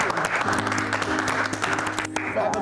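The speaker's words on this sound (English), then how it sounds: "For everybody, let's do a big round of applause." A room full of people gives a big round of applause, dense steady clapping with cheers and a tonal hum running underneath, filling the whole short stretch.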